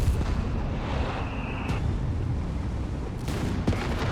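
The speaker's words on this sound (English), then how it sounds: "Artillery called in. Oh, is it the loiter? It's the artillery." An artillery barrage in Company of Heroes 3 sounds as deep booming blasts and rumbling impacts, with a couple of sharper cracks near the end, loud and continuous.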